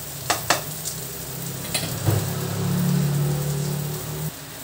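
Eggplant frying in a dry pan with almost no oil left, a steady soft sizzle with a few sharp taps and clatters at the start, close and moderately loud, swelling slightly then cutting off near the end.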